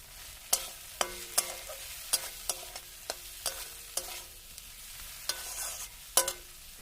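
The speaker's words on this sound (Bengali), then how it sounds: "এইভাবে একটু সামান্য মশলাটা আমি কষিয়ে নিচ্ছি।" Turmeric, chilli powder and slit green chillies being sautéed in a pan for a rohu fish curry: a string of sharp spatula scrapes and taps at an uneven rhythm over a low, soft sizzle, close and clear.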